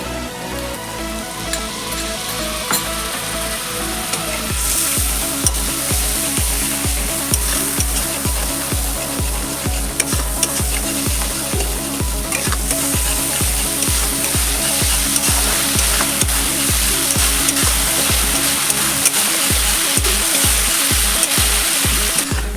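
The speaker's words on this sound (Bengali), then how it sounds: "আর একটু জল দিয়ে দেব, সামান্য একটু জল দিয়ে দেব।" Water is added to spice paste frying in a pan for Bengali bhola fish curry, giving a continuous hissing sizzle that swells and then holds steady under rhythmic background music.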